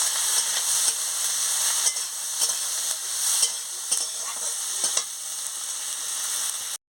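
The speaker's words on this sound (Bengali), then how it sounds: "কাঁচা লঙ্কা দিয়ে দিচ্ছি। দিয়ে ভালো করে নাড়িয়ে নিচ্ছি।" Chopped tomatoes and green chillies frying in a pan for a prawn chachchari, a steady bright hiss and sizzle broken by regular stirring scrapes and light clicks, close up, ending abruptly.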